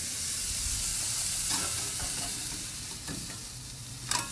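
Salmon sizzles steadily on a hot grill just after being flipped with a spatula, a loud, continuous frying hiss with a few soft scrapes and a small clatter near the end.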